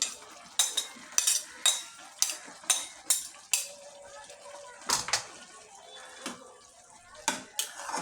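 Meat for biryani is stirred in a pot with a utensil, producing a series of sharp scraping clacks in an irregular rhythm over a soft background sizzle, close and moderately quiet.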